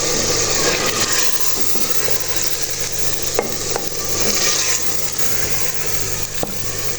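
Steady sizzle and stirring of meat frying in a pan with green chili paste and tomato, continuous and fairly loud with occasional utensil knocks against the pot.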